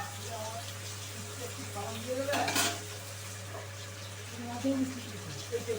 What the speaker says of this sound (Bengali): ভালোভাবে আমি সমস্ত জিনিস ভেজে নেব